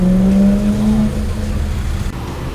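A 1992 BMW M3 engine revs loudly at close range, with a strong, steady droning tone that eases off after about a second.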